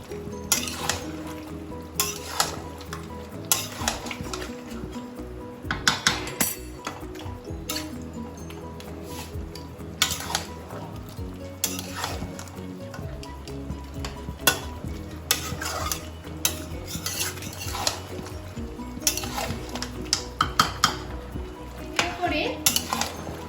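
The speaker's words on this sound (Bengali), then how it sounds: "যতক্ষণ না তেল ছেড়ে বেরিয়ে আসে আমি মাংসটাকে একটু কষে নেব" Mutton frying in oil in a pan over a raised gas flame, stirred steadily with a spatula, giving a continuous close sizzle broken by frequent scrapes and clinks of metal against the pan.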